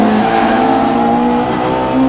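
Lotus Elan 26R race car driving on a track, its engine holding a steady, loud drone with a slight pitch wobble as the car shifts and balances through a corner, no voices over it.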